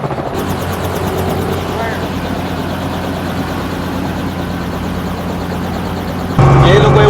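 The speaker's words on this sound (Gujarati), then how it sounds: "મોટા બેન હેલિકોપ્ટર ચલાવે છે" Helicopter during a passenger ride, a loud, steady engine drone with rhythmic rotor thudding heard from inside the cabin, continuous throughout and swelling louder near the end, with a voice speaking over it.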